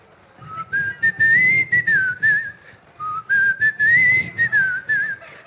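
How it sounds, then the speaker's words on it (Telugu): A man whistles a melody at a celebrity movie promotion interview, the tune rising and falling in two long phrases with short breaks, loud and close, with a faint low murmur beneath. "విజిల్తో పాడాలి"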